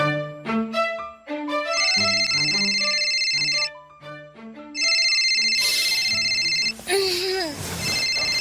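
A telephone ringtone plays in repeated electronic tone bursts, loud and close, with other sounds cutting in near the end.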